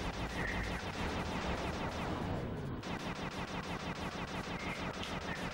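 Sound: gunfire and bouncing bullets in the video game Sly 2

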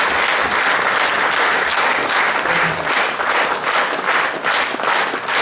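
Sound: audience applause after a poem recital

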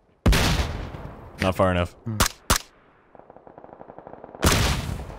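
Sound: gunfire in the video game PUBG

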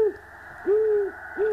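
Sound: owl hooting in a horror video game

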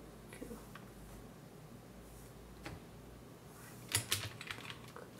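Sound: typing on an iMac keyboard into the search box

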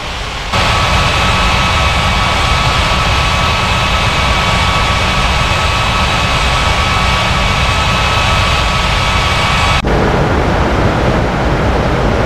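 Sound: jet airliner taking off in a virtual plane-spotting simulation

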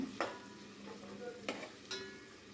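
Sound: onions frying in oil

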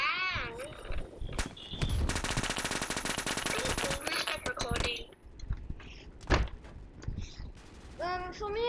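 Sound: MP7 gunfire in video game Phantom Forces

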